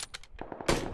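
Gunfire in the PUBG battle royale video game, a brief rattle of several rapid shots followed by a louder, broader blast, all within about a second.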